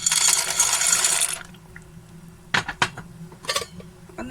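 Pasta cooking in a pot of boiling water: a loud bubbling hiss fades out, then a spoon clinks sharply against the pot a few times in quick knocks during stirring.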